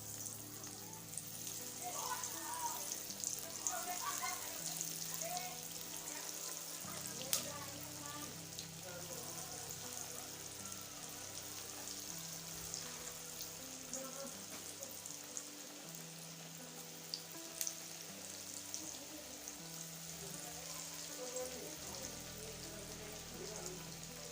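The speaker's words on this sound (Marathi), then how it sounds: "तेल गरम झाल्यानंतर त्यामध्ये तळण्यासाठी वड्या सोडूया" Taro leaf (alu) vadis deep-frying in hot oil over a medium gas flame, a faint continuous sizzle and soft crackling like light rain, with quiet voices in the background.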